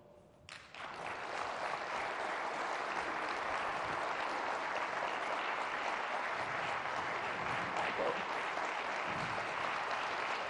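Sustained audience applause in a hall as Secretary of State Mike Pompeo and Cardinal Timothy Dolan are welcomed, starting abruptly and holding steady and dense throughout, with no voices rising above the clapping.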